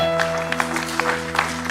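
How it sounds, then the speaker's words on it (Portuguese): A church congregation claps together in praise during a service, making a loose patter of hand claps over a sustained organ or keyboard tone. "Dê uma salva de palmas ao Senhor"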